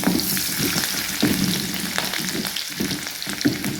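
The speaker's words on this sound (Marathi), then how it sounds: "लसूण चांगले लालसर भाजून घ्यायचं आहे।" Garlic and finely chopped green chillies with a pinch of asafoetida fry in hot oil, a steady close sizzle broken by intermittent scraping stirs, with no voices.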